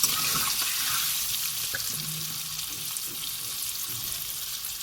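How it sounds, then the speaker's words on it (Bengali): Small fork-pricked potatoes frying in oil with salt, turmeric and chilli powder, a steady hissing sizzle close by with faint stirring knocks underneath. "নুন, হলুদ, লঙ্কার গুঁড়ো দিয়ে আলুগুলো একটু ভালো করে লাল লাল করে ভেজে নিচ্ছি"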